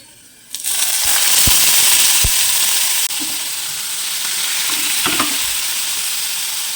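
Egg momos sizzle loudly and steadily in a frying pan just after water is added, the hiss starting abruptly and holding strong with a few scattered pops and clinks near the end.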